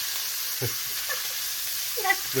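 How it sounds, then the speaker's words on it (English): Pork browns in a pan for sauerbraten, giving a soft, steady sizzling hiss with a few faint scraping stirs, fairly quiet and without speech. "browning pork"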